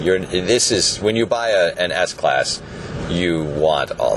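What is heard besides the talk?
No everyday noises stand out.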